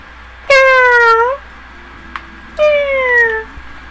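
A cat in the Tales of the Abyss video game gives two drawn-out, clear meows about two seconds apart, loud and close, against a faint game background.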